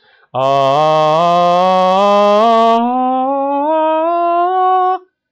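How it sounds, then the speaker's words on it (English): A single sustained sung note rises in pitch and abruptly breaks from a full, buzzy chest voice to a lighter, thinner, airy falsetto, loud and alone. "you heard there a sudden break from this the chest voice, into this airy sound, which is the falsetto"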